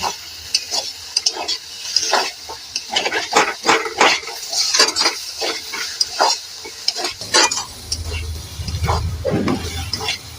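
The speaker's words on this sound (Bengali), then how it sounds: "আর কিছুক্ষণ কষে নেবো" Elephant foot yam stalks are stir-fried in a pan, with steady scraping and stirring strokes over a continuous sizzle that swells into a deeper frying hiss near the end.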